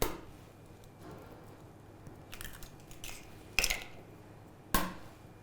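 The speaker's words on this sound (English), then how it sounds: "we just need to crack our 2 eggs into the bowl here" Two eggs are cracked into a bowl in a quiet kitchen, each giving a short, sharp crack about a second apart near the end, after a few softer handling clicks.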